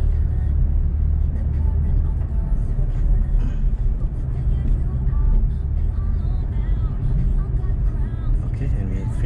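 A 2019 Porsche sports car slaloms through cones at Sepang, its engine a steady, loud, close rumble that holds throughout while a person keeps talking over it.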